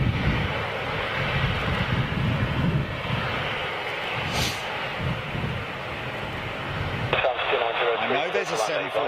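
A Boeing 737 jet landing, a broad roaring engine rumble heard from a distance that holds steady and then fades, with radio voices talking over it.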